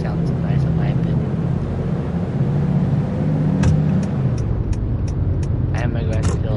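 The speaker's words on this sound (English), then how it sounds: "I love the way this truck sounds." Steady engine drone of a truck in a Roblox video game, running continuously at a low, even pitch, with someone talking over it.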